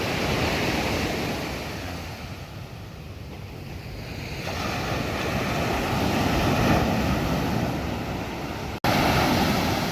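Big waves roar and crash continuously, loud and close, with heavy wind buffeting the microphone throughout.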